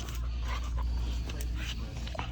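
A Labrador panting close up, quick rhythmic breaths with a few small whimpery sounds, heard under a person speaking nearby.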